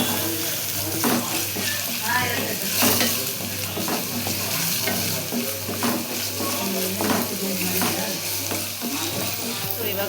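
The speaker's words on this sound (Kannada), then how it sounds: "ಆನಿಯನ್ ಹಾಕಿದ್ದೀನಿ, ಸೊ ಅದು ಬ್ರೌನ್ ಶೇಡ್ ಬರೋವರೆಗೂ ಫ್ರೈ ಮಾಡ್ಕೋಬೇಕು." Onions and garlic frying in a pan until browning, a continuous crackling sizzle with regular stirring scrapes and light clinks of utensil against metal.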